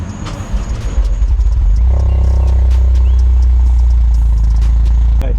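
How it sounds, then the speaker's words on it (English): A 2024 Toyota GR Corolla engine cranks over, catches, and settles into a loud, steady high idle while it warms up, the engine close and continuous with no voices. "I'm gonna start the car so I can show you what it looks like."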